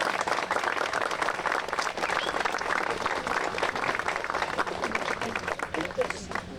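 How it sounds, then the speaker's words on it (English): Dense, sustained applause from a large audience at a zoo ribbon-cutting ceremony, steady and loud throughout. "So let's applaud them."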